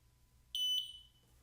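An xTool S1 laser cutter gives a clear, high electronic beep, two quick tones run together into one held note that then fades out, heard alone over a quiet low hum.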